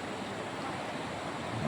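High water rushes in a broad, steady roar like heavy flowing river current, faint and continuous with slight wind noise and no clear voices.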